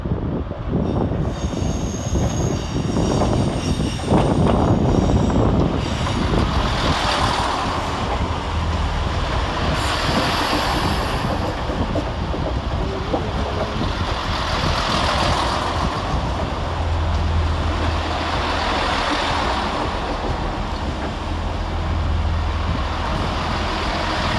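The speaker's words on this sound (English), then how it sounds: "Arriving to terminate 5 minutes early with a Chiltern Railway service off Banbury is 165011 and 165035." Two Chiltern Railways Class 165 diesel units, 165011 and 165035, roll into London Marylebone to terminate, wheels squealing steadily over a continuous rumble of engines and rolling stock, loud and close.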